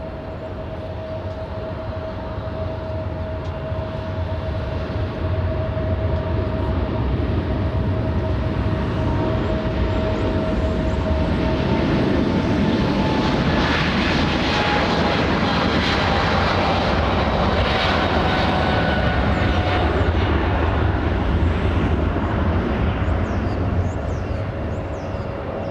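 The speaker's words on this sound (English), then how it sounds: "Hitting the gas, G90s at full power." Airliner with GE90 engines taking off at full power from LAX, a loud sustained jet roar with a steady whine that swells and holds throughout, with no voices.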